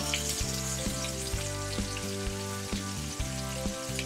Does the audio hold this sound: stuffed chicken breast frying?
yes